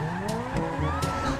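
In GTA 5, a Turismo sports car that resembles a McLaren revs hard in short bursts, with rising engine pitch and brief tyre squeals, loud and close.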